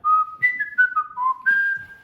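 A person whistles a short, clear melody of about six pure, steady notes, close and fairly loud, with no talking.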